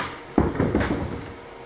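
Handmade wooden door of an old corral swinging, giving a short series of close knocks and creaks over about a second before settling.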